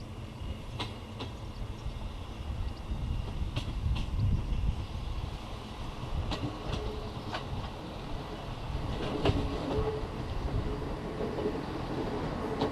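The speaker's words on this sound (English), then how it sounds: "On board this two-car Class 158" A two-car Class 158 diesel train rumbles steadily along with low engine drone and faint rhythmic clicks from the rails, heard from inside the carriage, no talking.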